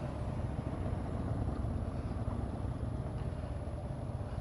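A 2015 Harley-Davidson Street Bob cruiser engine running, a steady close rumbling drone with a low throbbing texture and no break.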